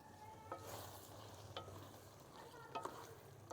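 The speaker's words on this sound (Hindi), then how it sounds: "1 मरतबा हम इसे हिला देंगे" Kaleji masala being stirred in a pan with ground garam masala, soft scraping strokes and a few clinks of the spoon over a low sizzle, quiet and close.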